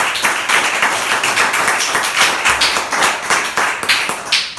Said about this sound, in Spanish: Ese aplauso sea para Jesús.